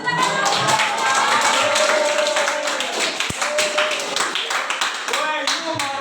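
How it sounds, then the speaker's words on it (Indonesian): Students in a vocational high school classroom clap their hands in a loud, sustained burst, with shouting and chatter over the claps. "Tepuk tangan."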